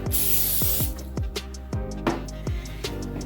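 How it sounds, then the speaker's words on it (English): A few short hissing bursts of cooking spray aimed at a pan, close by, with light clanks and taps between them. "Next, you're going to want to spray your pan"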